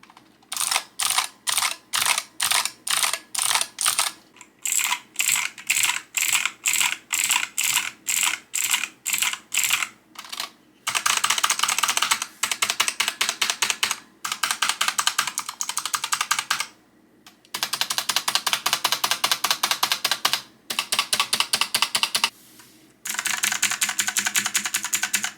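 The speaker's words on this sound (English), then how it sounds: "let's take a listen to what these clicky purple switches actually sound like" Rapid, crisp clicking from a Razer Huntsman Mini 60% keyboard with clicky purple optical switches, typed in steady bursts separated by short pauses, close and loud with no voices.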